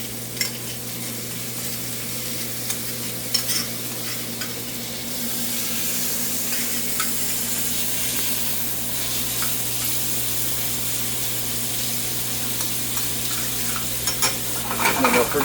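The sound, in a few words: fat rendering and sizzling in a pan, being stirred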